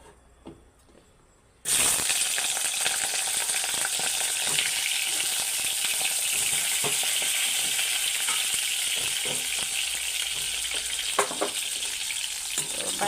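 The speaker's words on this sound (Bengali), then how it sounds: "বাইগুনগুলোকে হালকা ভাজি এলাম হলুদ আর লবণ দিই" Sliced eggplant hits hot oil in a kadai for Bengali begun jhal, bursting into a loud, steady sizzle after a quiet start and frying continuously up close with soft crackles throughout.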